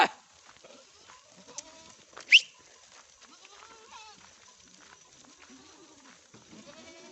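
Young goat kids bleat in a Nepali village pasture while out grazing, several short, fairly faint calls scattered over quiet outdoor background, with one louder bleat standing out.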